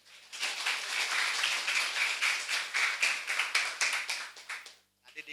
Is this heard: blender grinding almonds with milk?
no